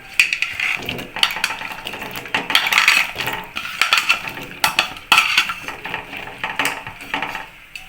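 Bengali home kitchen, with pieces of ash gourd (chal kumra) and water going into a cooking pot; close, irregular clanks and scrapes of metal utensils against the pot, with splashy clatter, and no talking.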